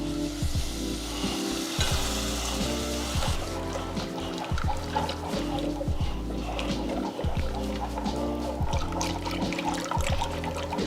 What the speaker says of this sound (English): Then we go ahead and start adding, our milk